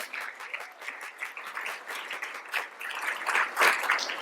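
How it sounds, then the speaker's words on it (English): A conference audience at a leadership summit applauds steadily, dense clapping filling the room and swelling slightly louder toward the end, with no talking over it. "please give yourselves a round of applause"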